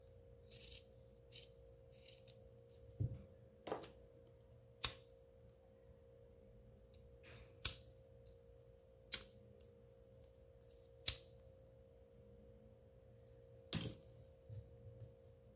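Scissors cut and round off craft material for a newborn baby kit, with scattered quiet snips and clicks spaced irregularly over a near-silent background.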